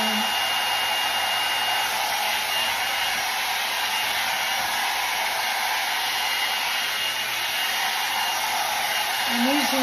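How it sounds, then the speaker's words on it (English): A hair dryer blow-drying damp, wavy hair runs in a loud, continuous close-up whoosh that stays steady for the whole stretch, with faint brief sounds near the start and end. "I'm gonna blow dry."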